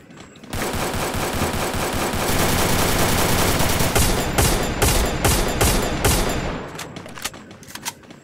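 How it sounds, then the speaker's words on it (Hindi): Gunfire in the Free Fire mobile battle game: a loud, sustained burst of rapid automatic shots gives way to a string of separate sharp cracks, then scattered shots as it trails off. "जैसे ही बंदा दिखे तो गोली चलाना शुरू कर देंगे"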